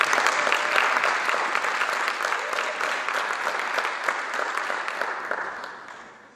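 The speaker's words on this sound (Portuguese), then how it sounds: "Uma salva de palmas." A crowd at a cultural event in Portugal claps in sustained, dense applause that holds steady and then tapers off toward the end.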